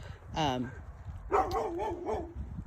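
A dog barks and yips twice with whiny, high-pitched tones, close by, in a fairly quiet setting.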